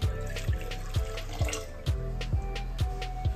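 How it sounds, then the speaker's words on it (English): Tap water runs steadily into a pot of toor dal being washed in a kitchen sink, a close, continuous splashing gush with rhythmic sloshing pulses as the lentils are swirled, no voices. "Wash and add filtered water, around 2 cups."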